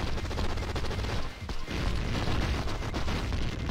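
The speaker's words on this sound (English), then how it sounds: "It's like a Michael Bay film, so many explosions." Explosions in a Super Nintendo video game roar as a dense, continuous barrage of booms and blasts that rumble without letup throughout.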